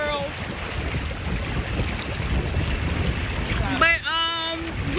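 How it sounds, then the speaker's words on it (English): Steady wind noise buffets the microphone at a beach on a cold evening over a broad rushing background, with a brief voice near the end. "It's freaking cold and windy out here."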